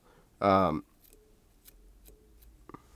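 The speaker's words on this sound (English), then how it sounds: "I'm going to come in here and just kind of round things up with my scissors." Sharp scissors snip deer hair on a Devil's Daughter fly pattern at the tying vise. Faint, crisp clips come at irregular intervals after a brief burst of voice.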